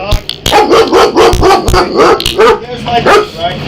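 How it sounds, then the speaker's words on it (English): A dog barks loudly and repeatedly at close range, sharp yips and barks coming in quick bursts during a police traffic stop. "There's my dog, right?"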